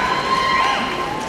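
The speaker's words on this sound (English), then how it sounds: "I pause and people clap." Audience at the 2019 Rock & Roll Hall of Fame induction for Radiohead cheers and claps during a pause in a speech, a dense, steady crowd roar lasting the whole moment.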